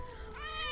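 A single cat in the video game Baldur's Gate 3 gives one soft meow that rises and stretches out toward the end, quiet and close.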